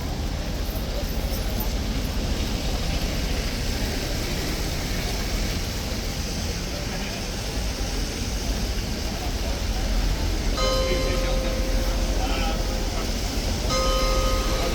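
A single bell strikes the half hour near Horse Guards in London on a rainy day, its clear tone ringing out twice over steady traffic and street noise.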